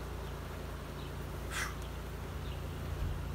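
Honey bees buzz softly around an open hive full of uncapped honey, a faint steady hum with a brief louder pass close by.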